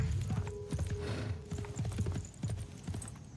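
Horse hooves clip-clopping in a steady, close rhythm as a unit rides across the map in the video game Civilization VI, with faint mechanical game ambience behind.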